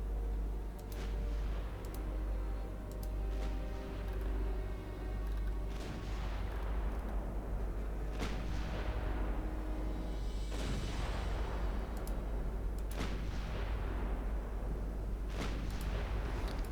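Warship guns firing in the naval battle game Ultimate Admiral Dreadnoughts: loud, sharp booms repeat at irregular intervals every second or two over a constant low engine-like drone, each shot trailing off in a short rumble.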